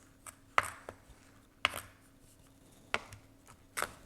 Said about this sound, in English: I'm gonna chop some of it a little bit finer